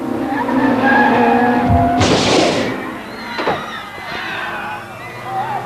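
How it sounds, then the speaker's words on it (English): A race car at Amaroo Park leaves the track during the 1986 Australian Drivers Championship. A loud engine drone runs under a sudden harsh burst of noise, followed by thuds and scraping, with voices heard faintly. "his car will leave the track at 100 miles an hour, fly high into the air, and come down in a crowd of spectators"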